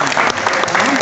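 Audience applause for a silver-medal-winning wrestler at a wrestling honours ceremony at an akhara in Sadabad, a steady burst of clapping filling the whole moment.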